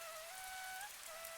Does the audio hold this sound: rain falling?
yes